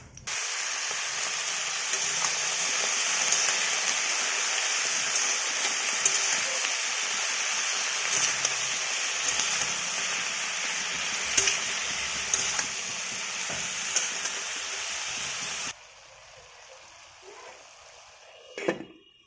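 Vegetables cooking in a kadai over dried red chillies and nigella seeds give a steady, loud sizzle for about fifteen seconds, then drop to a quieter simmer with a single soft knock near the end.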